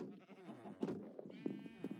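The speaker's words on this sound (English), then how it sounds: "sheep." Sheep bleating in Minecraft, a few short in-game bleats at moderate volume over a soft background hum.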